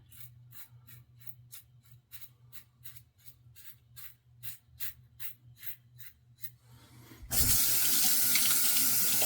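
Tap water runs into a sink while rinsing after a wet shave, starting as a series of rapid splashes and trickles, then swelling at about seven seconds into a loud, steady, close gush for the rest.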